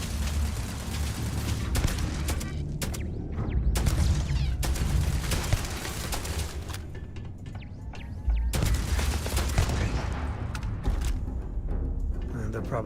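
A turret in Starfield fires rapid, loud bursts of gunfire almost continuously, broken by a few short pauses, over a dense mechanical din.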